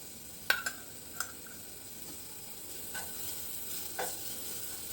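A spoonful of chilli-cumin paste hits hot ghee for a sweet potato fasting misal, giving a soft continuous sizzle with a few sharp clinks of a spoon against the pan near the start.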